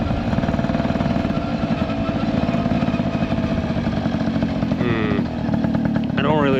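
A moped engine drones loud and close while riding on an Ontario street, a steady buzzing putter that barely changes, with talking over it.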